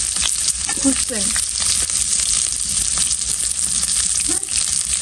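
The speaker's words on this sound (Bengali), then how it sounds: "এখন হচ্ছে এটাকে একটু ভেজে ভেজে নেব" Spices for khichuri fry in a pan, a loud continuous sizzle with occasional stirring scrapes and faint voices in the background.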